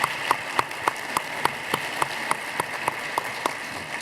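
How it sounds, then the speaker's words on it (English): A conference audience at the OFN40 fireside chat applauds Director Raghavan, a steady crowd clapping with a distinct near, regular single clap standing out about three times a second. "Let's give a round of applause for Director Raghavan."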